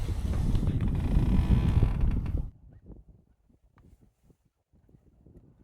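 Steady wind rush and moderate waves lapping on Lake Halove, heard from a boat, fill the first couple of seconds, then drop away to faint, sparse splashes and knocks.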